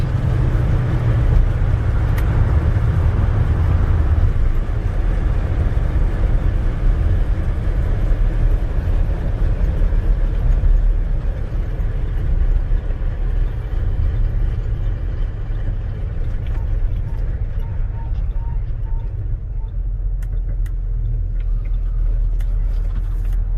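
A Chevrolet C10 Silverado with a 350 V8 cruises at 60, heard from inside the cab as a steady, loud low rumble and road drone that holds unbroken throughout.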